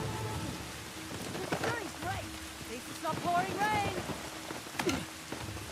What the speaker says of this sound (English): It is pouring rain.